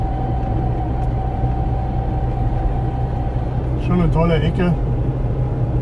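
Interior drone of a Trabant 601 on the road to Grünau, a steady low engine rumble throughout, with someone briefly speaking over it near the end.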